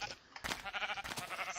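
A sheep in the Minecraft video game bleats in a wavering, quavering call, close and fairly loud, repeated in pulses over about a second.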